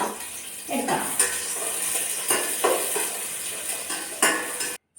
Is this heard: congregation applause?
no